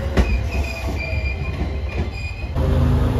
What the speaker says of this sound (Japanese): 総社駅12時49分着普通列車伯備線総社駅227系近郊型電車うららです。